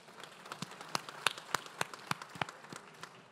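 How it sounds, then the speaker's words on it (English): Audience at a 2021 recognition event for influential Latinos in Georgia claps in a scattered, moderately distant round of applause, with sparse irregular claps rather than a dense ovation. "let's give him another round of applause"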